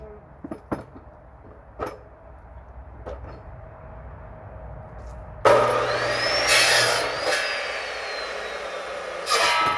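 A few faint knocks and clicks come first, then a high-speed electric cutter bursts into a loud whining, grinding roar as it cuts firewood outdoors in a Gangwon winter. It keeps running strongly to the end.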